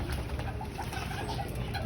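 Breeder hen pigeons cooing in a loft during bathing time, soft repeated coos close by over a steady wash of background noise, with no talking.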